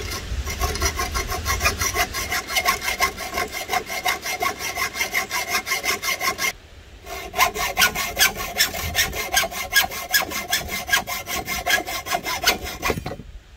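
A small hacksaw cuts through steel rebar with steady back-and-forth rasping strokes, loud and close, pausing briefly midway before the sawing resumes until the end.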